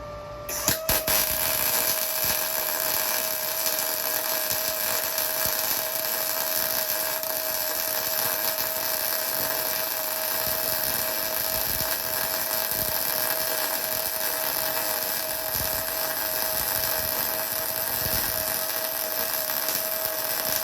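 An Arccaptian Mig 200 MIG welder runs a long continuous bead on steel tubing of about 1/8 inch wall, a steady loud crackling buzz with a sharp start.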